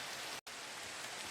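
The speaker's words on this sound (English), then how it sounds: "It's raining again." Steady rain falling in a Minecraft world, an even hiss of drops on surfaces with a brief silent gap partway through, no voices.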